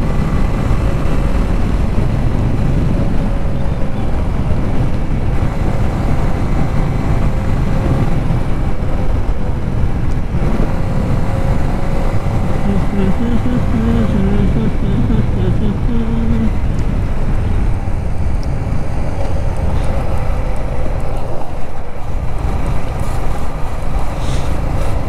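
A Yamaha MT15 motorcycle accelerates from first gear up through the gears, its engine a loud, steady roar with rising tones, mixed with heavy wind rumble throughout.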